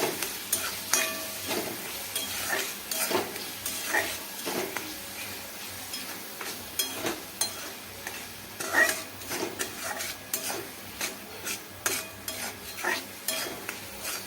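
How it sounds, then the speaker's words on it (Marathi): Spices with turmeric and salt stir-fried in a pan, a low sizzle under rhythmic spoon scrapes and taps against the metal, repeated steadily and close up. "दोन मिनिटे तरी आपल्याला चांगले असे परतून घ्यायचे आहे."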